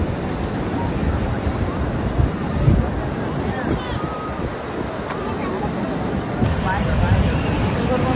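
Surf at Laboni Point on Cox's Bazar beach rolls in as a broad, continuous roar mixed with heavy wind buffeting the microphone, loud and close throughout.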